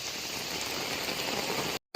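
Heavy rain pours steadily near the medical college in Kozhikode, a broad constant wash of drops that cuts off abruptly just before the end, with no talking.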